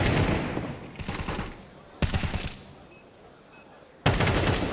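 Counter-Strike gunfire sprays in sustained automatic bursts, loud and close, broken by brief gaps, with a commentator's voice faintly underneath.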